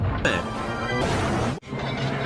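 A loud, dense toy-train crash from Thomas and Friends: a sharp smash followed by sustained clattering and rumbling, with a brief break before more crashing debris.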